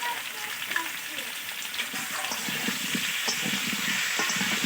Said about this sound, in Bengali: আলুটাকে লাল লাল করে একটু ভেজে নামিয়ে নিতে হবে